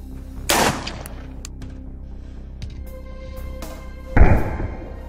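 Two sharp, loud gunshots ring out from an MP7 or P90 personal defense weapon firing armor-piercing rounds at Soviet 6B3 or 6B5 body armor, widely spaced with a few faint clicks and thuds between them and no talking.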